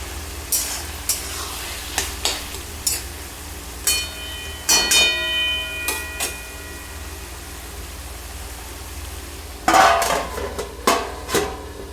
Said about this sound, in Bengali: টমেটোটা দিয়ে কিছুক্ষণ নাড়াচাড়া করে আবার ঢাকনা লাগিয়ে দিব